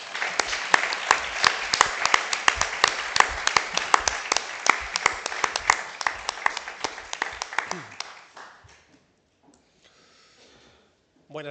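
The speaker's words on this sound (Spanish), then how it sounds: "Un fuerte aplauso para ellos." Audience at a round-table session of Toledo authors at a congress gives warm applause, crisp close claps in a busy rhythm that fade out after about eight seconds, followed by quiet room sound and a brief noise at the end.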